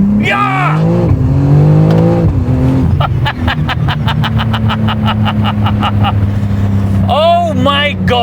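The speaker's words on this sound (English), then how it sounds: "Left foot on the brake, right foot on the throttle, ESP off." A powerful BMW engine revs hard with the brake held, then launches with ESP off and surges forward, with a rapid series of sharp bursts like quick gear shifts, loud and close, briefly overlapping speech at the start and end.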